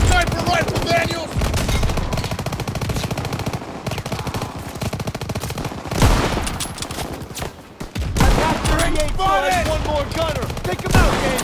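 Dense gunfire in Call of Duty WW2: rapid machine-gun bursts and overlapping rifle shots in continuous loud volleys, with battle chatter and shouted voices mixed underneath.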